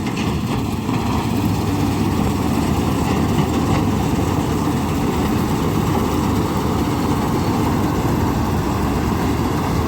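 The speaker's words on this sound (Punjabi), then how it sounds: "ਇਹ ਮਸ਼ੀਨ ਆ ਰਹੀ ਆਪਣੀ ਪੂਰੀ ਤੇਜ਼" A combine harvester engine runs at full speed in a wheat field, a loud, steady, unbroken drone with heavy low rumble and mechanical whir throughout, no voices.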